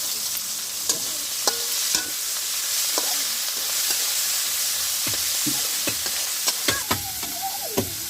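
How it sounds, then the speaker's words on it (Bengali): Hilsa fish oil sizzles with onion in a pan, a close, continuous frying hiss broken by sharp clicks and scrapes of a spatula stirring at an uneven rhythm. "মাছের যে তেলগুলো আছে এগুলো পেঁয়াজের সাথে একটু ভালো করে ভেজে নিচ্ছি।"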